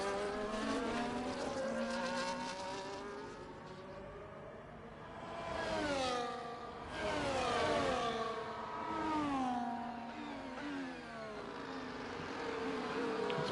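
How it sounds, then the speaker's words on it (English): Race car engines in an online sim racing league round at Brazil scream and rise and fall in pitch as several cars pass. The sound is steady and moderately loud, with overlapping engine whines and shifting revs. "Got a couple of cars coming out of the pit lane that have to dive out of the way"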